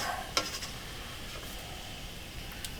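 Browned beef being scooped out of a pan on medium heat, a single sharp metal scrape of utensil against pan near the start, then soft faint sizzling and light stirring noises alone with no talking.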